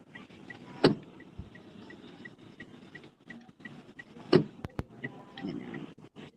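A car's power windows whir as they move, with two sharp clicks or knocks standing out against a low vehicle hum and faint background noise.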